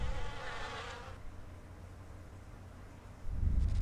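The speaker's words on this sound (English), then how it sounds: "You bees are all a bunch of liars." Bees in the game Amber Journeys Beyond buzz in a steady, close, noisy drone for about a second, then a faint hum carries on until a louder low rumble comes in near the end.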